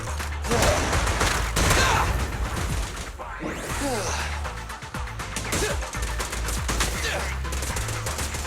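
Video game gunfire in Zenless Zone Zero, with bursts of rapid shots and impacts mixed with game effects and character voices, loud and busy throughout.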